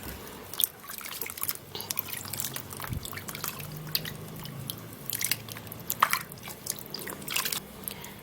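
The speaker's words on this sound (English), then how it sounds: "I'll be washing the watermelon" A watermelon is rinsed under running water in a kitchen, giving a steady close trickle with wet, squishy handling sounds and small splashes throughout.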